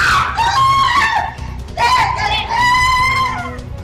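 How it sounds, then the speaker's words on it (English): Loud, high-pitched screams ring out in two long bursts with a short break between them, sounding chilling and close, with voices yelling over a crowd. "Chilling screams there."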